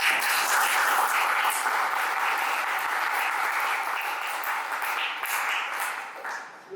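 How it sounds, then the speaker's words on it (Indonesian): A group in an Indonesian seminar session on liquid organic fertilizer breaks into sustained, steady applause that stays loud and dense throughout before tapering slightly at the end, with no talk over it. "Malah kita beri tepuk tangan meriah dari kelompok."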